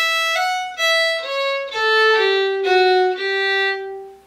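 A solo fiddle plays a short phrase from a Scottish march, a handful of clear sustained bowed notes stepping downward, close and alone with no talk.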